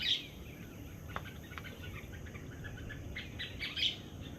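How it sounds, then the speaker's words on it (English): Sharp, high bird chirps ring out at the start and again near the end, with scattered fainter calls between them over a quiet outdoor hush. "Can't tell if that bird is mad at me or that's just his thing."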